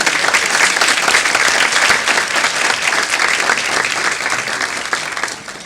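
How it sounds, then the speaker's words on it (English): Audience applause for six award winners at an annual women's achievement awards ceremony, sustained dense clapping from a large crowd that holds steady for several seconds before easing slightly at the end. "let's have another round of applause for our 6 winners"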